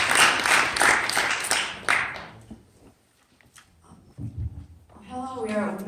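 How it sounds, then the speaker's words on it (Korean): An audience at a student event of an international appropriate technology conference claps for a student overseas volunteer club, a loud burst that fades out after about two seconds, followed by quiet room noise and then a voice starting to speak. "큰 박수 부탁드리겠습니다."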